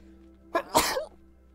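A single sharp sneeze from one person, a quick inhaled catch followed by an explosive burst, close and loud against a faint background hum.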